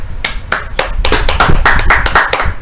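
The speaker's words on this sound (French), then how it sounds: "applaudissons pour elle" An audience at a religious gathering claps for a woman, loud and close, starting with a few spaced claps that quickly swell into rapid, overlapping clapping from many hands.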